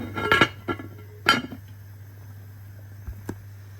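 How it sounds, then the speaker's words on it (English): Chicken foot okra soup with ginger is stirred in a pot, then the lid goes on: a few clinking metal knocks near the start, a quiet low hum underneath, and one last faint tap near the end. "So I'm stirring that and getting ready to close the pot."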